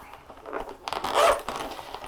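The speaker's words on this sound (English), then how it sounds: "then you get the back where there is a zipper" A single zipper on a leather pocket is pulled open with a quick rasp that rises to a brief, louder stretch, close and clear in a quiet room.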